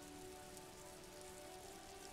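Steady, dense rain patter falls over city streets in the video game Disco Elysium, a continuous, even hiss at low volume with no voices.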